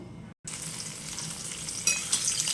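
A fish head fries in hot oil in a home kitchen pan, giving a steady close sizzle with a brief dropout near the start and a louder crackling spatter toward the end.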